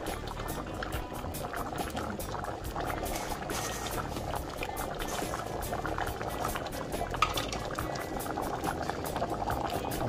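Jamaican stew peas with coconut cream simmering in a pot, a steady close bubbling and gurgling that carries on without pause, with no talk.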